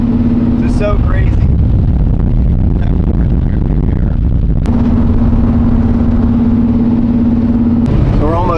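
A 1976 Corvette drives along with its engine droning steadily close by, mixed with road and wind noise, while people talk over it.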